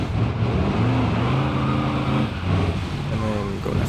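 Rally car engine in BeamNG.drive droning and shifting pitch as it drives a gravel stage, steady and close, with someone talking over it.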